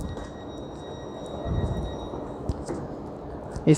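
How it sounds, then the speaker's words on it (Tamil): A low rumbling hum of a train at Turin railway station in Italy, with steady droning tones, faint clanks, and murmuring voices in the background. "இப்போது வந்து ஒரு ட்ரெயின் வந்திருக்கு"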